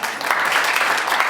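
Steady clapping from an audience, a dense continuous patter of many hands that holds at an even level throughout.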